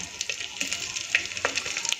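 Green chillies hit hot ghee and oil for a tempering with peanuts and dried red chillies, giving a steady close sizzle broken by small crackles and pops as the pan is stirred.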